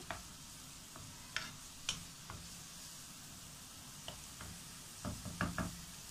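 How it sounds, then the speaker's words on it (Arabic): Onion softening in butter in a pan gives a faint, steady sizzle, broken by a few light scrapes and clicks of stirring that cluster near the end. "حطيت كده مكعب من الزبده وبصلايه كده صغيره ادبلها كده"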